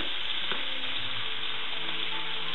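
Shrimp sizzle steadily in a hot pan with garlic and white wine, a continuous close, loud frying hiss with a faint clink near the start and no talking.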